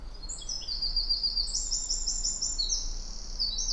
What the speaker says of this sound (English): What a beautiful sounding bird.